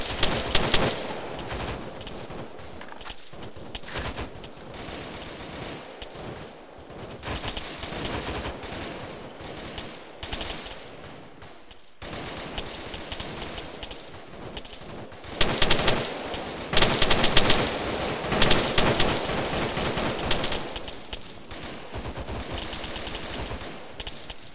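Dense crossfire rattles through an Arma 3 firefight, with machine-gun bursts and rifle shots layered continuously at varying distances and peaking in loud clusters, with no speech over it.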